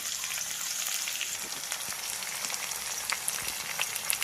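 Green chilies and garlic fry in a pan for dill leaf bhaji, giving a steady close crackle and sizzle with scattered sharp pops throughout and no voices.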